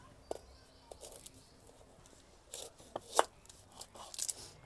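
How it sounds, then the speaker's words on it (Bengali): A knife chops an onion in a village kitchen with scattered, uneven taps on a board. The cuts are soft, with a few sharper strikes and no talking. "এবারে আমরা পেঁয়াজটা কেটে নেবো"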